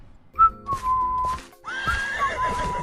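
A horse neighs twice in quick succession, loud and close, each whinny a shrill drawn-out call with a wavering tail, opening and closing a short comic animated scene.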